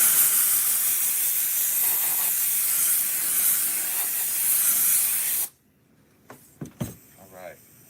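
Adhesive sprayed onto panel material for wrapping curved pillars: a loud, steady hissing spray runs for about five and a half seconds, then cuts off, followed by a few faint handling clicks and a brief murmur of voice.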